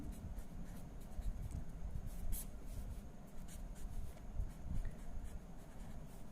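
A pen or marker scratches steadily across paper or a board while a note is written by hand during a maths lesson on Roman numerals, close and continuous with faint rubbing strokes and no speech.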